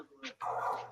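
A dog gives a couple of short yips and a whining bark, fairly faint, as if from another room.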